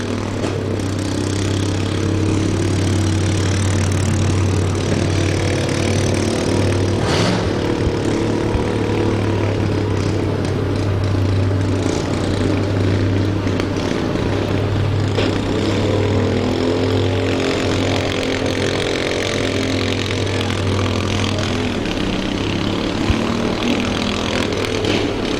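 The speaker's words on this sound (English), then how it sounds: "They're going to keep hammering away on that slightly modified John Deere." A slightly modified John Deere runs in a destruction derby, its engine a loud, steady, droning rumble with a strong low hum that holds for the whole stretch amid busy arena noise.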